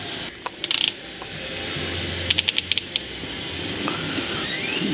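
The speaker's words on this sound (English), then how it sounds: "I simply have to get my center clamp here to clamp around the tube right there." A platform bike rack's center clamp ratchets tight around a bike tube, giving two quick bursts of close metallic clicks: a short rattle early, then a slower run of five or six distinct ratchet clicks.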